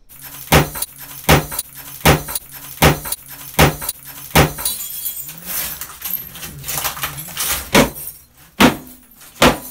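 Heavy hammer blows striking a cast iron bathtub to crack it apart, a series of loud, sharp metallic bangs at a fairly steady rhythm with short gaps between, close by and alone.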